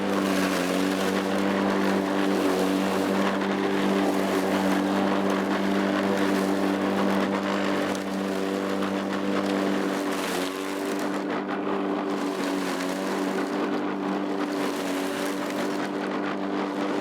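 Lawn mower running on its highest cutting setting in a garden, a loud, close, continuous engine drone with a steady hum and slight shifts in tone as it moves.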